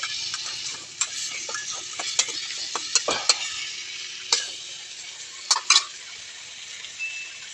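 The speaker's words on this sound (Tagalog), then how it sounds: "Hanggang sa mag-brown yung alamang mga kasunog. Kasabay ng mga bawang at sibuyas." Shrimp paste sizzling with garlic and onion in a pan while a utensil stirs and scrapes, with scattered sharp clacks of metal against the pan.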